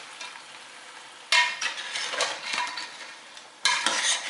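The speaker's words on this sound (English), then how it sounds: "so you want to give that a little stir." Crab cioppino is stirred in a pot, with a soft sizzle and scraping utensil movements, plus two sharper bursts of spoon and pot contact partway through. No one speaks.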